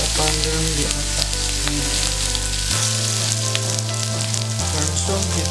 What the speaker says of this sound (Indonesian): kita langsung panggang di atas